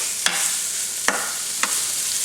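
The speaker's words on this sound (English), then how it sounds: "we are going to cook this down till it's nice and crispy" Chopped bacon frying in a pan for a breakfast casserole, a steady bright sizzle with three sharp utensil scrapes or clicks spaced across it, no voices.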